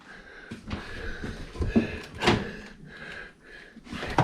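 A convection microwave door with buttons on the door swings open in a tiny house kitchen, a short mechanical clunk and rattle close by over background talk.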